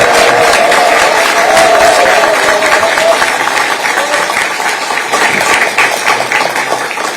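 Loud, sustained applause from a large audience at a Korean political party event, a thick, close wash of clapping that continues for several seconds and eases slightly toward the end.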